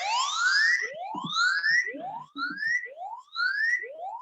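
A siren alarm triggered remotely through the Modicare Mighty Guard phone app plays from a phone, with repeated rising electronic wails sweeping upward one after another, loud and close, with no talk over it.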